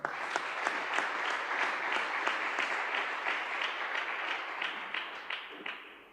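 Audience applause at a church gathering, a sustained wash of many hands clapping for several seconds at moderate distance, tapering toward the end with no talk over it.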